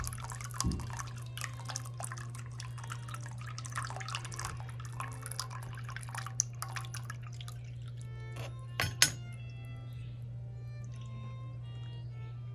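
Water trickles and drips gently over stones in a small fountain over a steady low hum, with scattered splashes and a couple of sharper knocks.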